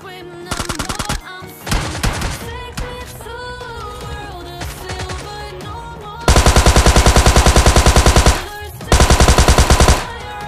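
Rapid automatic gunfire in PUBG Mobile Lite, several loud bursts of fast repeated shots, with a long sustained volley near the end, set against game music and effects.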